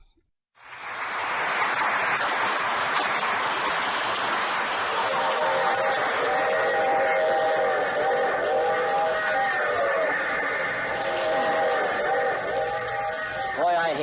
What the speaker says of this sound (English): These long train rides.